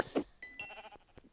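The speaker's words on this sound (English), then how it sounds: "Oh, sheep." Sheep in a survival video game bleat in a few short, wavering cries, clear and fairly close, with no talking.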